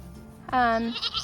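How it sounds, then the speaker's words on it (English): A small Nigerian dwarf goat on a homestead gives one clear, wavering bleat about half a second long, close and fairly loud, over a low background murmur. "This is our smallest goat."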